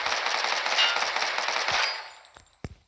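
A compact Uzi submachine gun from a Minecraft gun mod fires a rapid sustained burst for about two seconds, then a couple of sharp single shots follow, loud and close.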